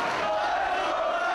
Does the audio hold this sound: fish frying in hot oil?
no